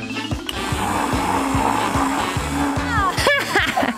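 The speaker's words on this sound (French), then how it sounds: "C'est facile avec un mixeur. Il suffit de mettre les fruits dedans et d'appuyer sur le bouton." A kitchen blender whirs loudly and steadily as it mixes fruit into a cocktail, a close, continuous motor drone with rhythmic chopping pulses, ending in a brief clatter.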